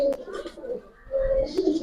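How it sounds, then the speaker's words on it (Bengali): Fancy-headed, boot-beaked pigeons coo in short, close, throaty bursts, with a pause in the middle and a final rolling coo, while a person talks softly nearby. "লাড্ডু মাথার কবুতর কিউট একটা পেয়ার"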